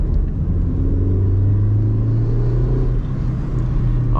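Mazda MX3 with 29,000 original miles, heard from inside the car during a drive: a steady low engine drone that climbs in pitch as revs build in second gear.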